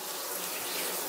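Water sprays steadily from a stone shower head at close range, a loud, even hiss of running water with no voices.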